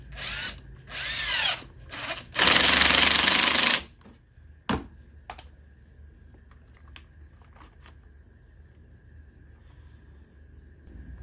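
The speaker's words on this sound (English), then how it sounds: "let's get this light screwed to the bits of timber to make sure it doesn't fall off" A power drill drives screws to fasten a brooder heat light onto pieces of timber for a quail brooder box. Two short whirring bursts lead into a longer, loud run, then a few sharp knocks and a quiet room.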